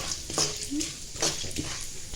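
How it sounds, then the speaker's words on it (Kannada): Urad dal and chana dal sizzle in hot oil in a pan, with a spoon stirring and scraping through them. The frying is close and steady, and several light clinks rise above it. "ಒಂದು 2 ಚಮಚದಷ್ಟು ಕಡಲೆಬೇಳೆ ಹಾಕ್ಕೊಂಡು ಚಲೋತ್ನಂಗೆ ಫ್ರೈ ಮಾಡ್ಕೋತೀನಿ"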